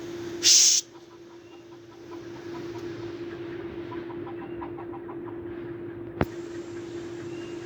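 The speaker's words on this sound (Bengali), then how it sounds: "একটু শব্দ হয় মোরগটি মুরগিগুলোকে জাগিয়ে তুলল আস্তে আস্তে মুরগিগুলো চলে যাচ্ছে" Chickens cluck and a rooster calls amid a low steady hum, with soft repeated clucks through the middle and a sharp brief knock near the end.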